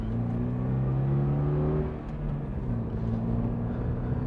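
A 2022 Subaru BRZ Premium engine pulls under partial throttle, a steady, fairly loud cabin drone with rising harmonic tones that dip briefly around the midpoint and resume, with no talking over it.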